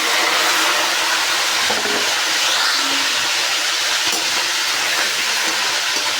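Pieces of meat fry in hot ghee for chicken biryani, giving a steady loud broadband sizzle and hiss that continues without a break, with no voices.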